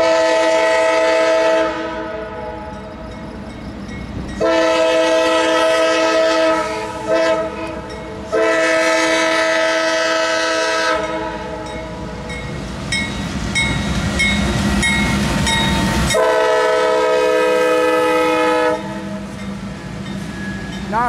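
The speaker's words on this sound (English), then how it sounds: "Got a CSX northbound auto rack, Butler Street, Hamilton." CSX northbound autorack freight train rolling past at a street crossing, loud and near, its horn blaring in several long sustained blasts over rumbling wheels and clanking cars.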